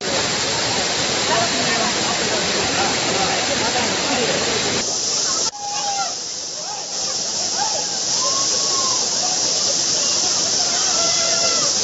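Water thunders down Courtallam Falls in a steady, loud roar with heavy spray hiss that never lets up, while crowd voices and shouts rise faintly over it in the second half.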